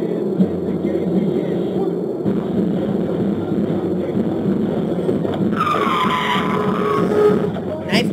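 Car tyres skidding under hard braking, a steady harsh rush with a screechy rise toward the end, heard beneath continuous talking.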